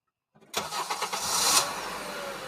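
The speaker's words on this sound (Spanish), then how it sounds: "solo decidí apretar el acelerador y largarme del lugar finalmente" Car engine cranking and catching, then revving up and accelerating away, loud and close after a brief quiet start.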